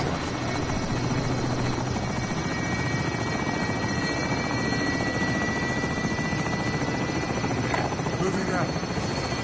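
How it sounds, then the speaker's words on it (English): A steady, loud helicopter rotor hum in a Call of Duty: Modern Warfare Plunder match, running unbroken with faint game voices murmuring underneath. "Helo is in position."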